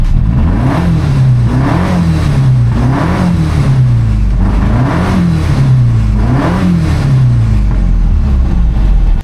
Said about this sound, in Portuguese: Se liga só no ronco desse motor.